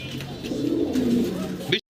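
Pigeons coo close by in one soft, low, throaty rolling call that lasts under two seconds, with no one talking.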